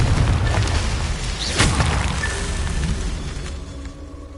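A Confringo fire spell detonates in the Hogwarts Legacy video game: a dense, loud rumbling blast that peaks in a sharp burst, then rolls on and slowly fades.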